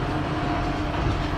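A Kubota M7060 tractor engine roars steadily at high RPM, a loud, dense, rumbling drone heard close up with no voices.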